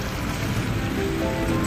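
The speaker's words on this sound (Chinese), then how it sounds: "下雨了，老冷" Steady rain falls on a cold day at a street food spot selling spicy hot pot, a continuous broadband hiss with no pauses, fairly loud and close, with no talking over it.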